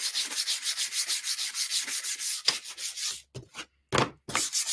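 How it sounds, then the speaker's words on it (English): Hand sanding on wood: rapid, regular back-and-forth rasping strokes, close and loud, then slower separated strokes with brief pauses between them. "A lot of sanding today."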